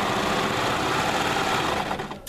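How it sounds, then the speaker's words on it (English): Serger stitching off the end of a fabric seam to leave a thread tail, a steady, close, fast mechanical whir that continues evenly and then tapers slightly at the end, with no talking. "Now that my fabric has gone all the way through, I want to make sure that I continue stitching."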